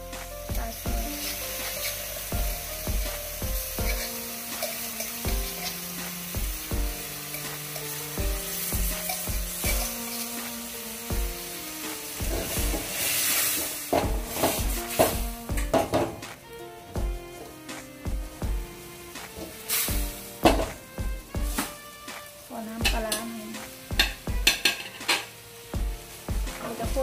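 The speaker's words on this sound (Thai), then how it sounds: "คั่วปลากระป๋องกับน้ำปลานะคะ" Canned fish is stir-fried with fish sauce in a pan for a northern Thai dish, with a steady sizzle under repeated metallic clanks and scrapes of a utensil against the pan, close and busy throughout.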